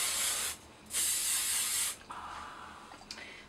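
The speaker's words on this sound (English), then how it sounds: "This is the Fekkai hairspray." Two long bursts of Fekkai hairspray hiss onto hair, with a short gap between, followed by a quieter breathy rustle and a small click.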